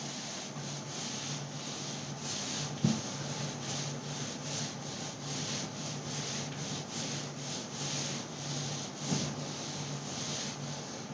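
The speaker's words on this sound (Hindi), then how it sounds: "इसको भी अब मैं रब करती हूँ।" Someone rubs writing off a board during a Class X Hindi lesson, making steady rhythmic scrubbing strokes, close and fairly quiet, with two brief knocks along the way and no talking.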